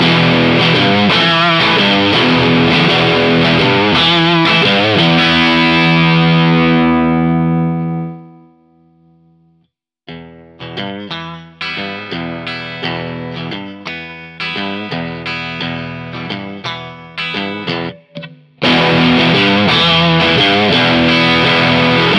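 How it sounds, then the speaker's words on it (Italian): Electric guitar with a saturated, distorted tone: loud sustained chords ring and fade to near silence, then quieter, choppier playing follows as the volume knob is rolled back toward clean, before a loud full passage returns. "Se abbiamo un suono saturo, abbassando il volume, otterremo un suono pulito."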